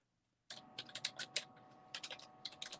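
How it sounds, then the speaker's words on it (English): Rapid clicking of a computer keyboard typed with long nails starts abruptly after a half-second of silence and runs on in uneven bursts of sharp, close taps. "That's what it sounds like when she types, though."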